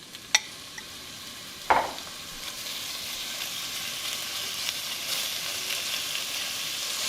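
Chunks of chuck beef hitting hot oil in a pot, with a few clinks, then a sharp sizzle that settles into a steady searing hiss, close and loud, with no talking.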